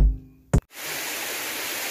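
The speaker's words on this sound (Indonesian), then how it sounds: "di tengah perjalanan gue mendengar suara desiran air ya. Kayaknya ini dari air terjun nih." Rushing water from a waterfall along a village path swells in as a broad, steady hiss after a brief thump and a moment of quiet, continuing evenly to the end.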